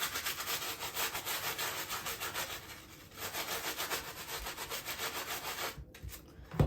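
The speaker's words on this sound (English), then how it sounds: "they definitely need a good scrubbing. And then you just lather it up." Lathered parts of a vintage dress form are scrubbed with quick, rhythmic back-and-forth rubbing strokes, close and fairly quiet, pausing briefly midway before resuming.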